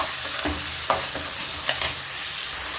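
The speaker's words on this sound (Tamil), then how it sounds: "அந்த தக்காளியை இதில் ஆட் பண்ணிவிட்டு நல்லா மிக்ஸ் பண்ணி விட்டுக்கணும்" Chopped onion and tomato sizzle steadily in a pan while a spoon scrapes and stirs through them in a few distinct strokes, close and moderately loud with no talking.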